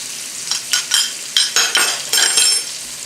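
Wild rice being stirred in a hot pan, sizzling steadily with repeated scraping strokes of a utensil against the pan, close and moderately loud.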